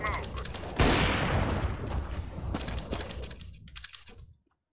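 Gunfire in a casual online shooter match, a sharp close burst followed by a rattling stream of shots and clicks that fades out over a few seconds, with a player's voice talking under it.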